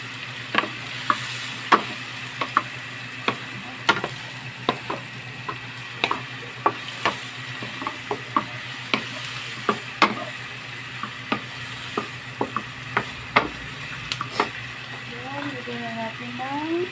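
Shrimp and pineapple stir-fried together in a hot pan give a steady sizzle, broken by frequent sharp clacks of a spatula scraping and striking the pan in an uneven rhythm, close and fairly loud.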